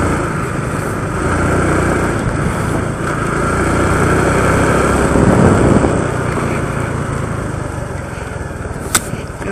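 Honda Biz motorcycle ride in the open, a steady close engine drone with wind and road noise throughout, swelling slightly midway and carrying on without speech.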